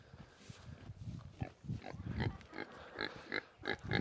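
Several pigs grunt and oink close by, a series of short snorts and squeals coming in an irregular rhythm at moderate volume.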